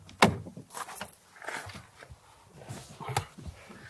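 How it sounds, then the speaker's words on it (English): A 2020 Audi A4 Avant's car door clunks shut with one solid, close thud near the start, followed by quieter cabin movement and rustling. "The door clunks shut with vault-like quality"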